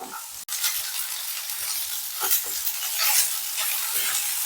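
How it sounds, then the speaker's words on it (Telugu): Chopped tomatoes frying lightly in a pan, a dense, even sizzle with stirring scrapes and soft clatters, close and steady after a brief dropout at the start, no talk. "ఇప్పుడు కట్ చేసుకున్న టమాటో కూడా వేసుకుందాం. మరి ఎక్కువ ఫ్రై అవ్వాల్సిన పని లేదండి, జస్ట్ లైట్గా ఫ్రై అయితే చాలు."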